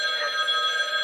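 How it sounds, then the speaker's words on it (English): Telephone ringing in a video game, the trill of a spooky phone call, steady and loud with no pauses across the whole span and no voices over it. "Oh god, spooky phone call!"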